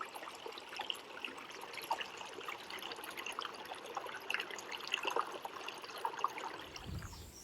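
Faint creek water trickling quietly over a wetland stream, a soft continuous babble with small splashes and a low bump near the end.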